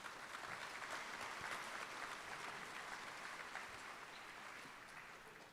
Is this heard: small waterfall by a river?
no